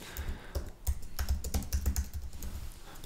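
Quick bursts of typing on a computer keyboard, close and clear, with rapid uneven clicks and a few louder keystrokes spread over a few seconds and no talk.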